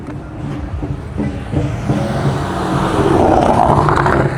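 A Toyota Supra Mark 4 engine revving outdoors at a cars-and-coffee meet, a steady mid-distance drone that climbs in pitch and loudness toward the end, with other traffic noise around it.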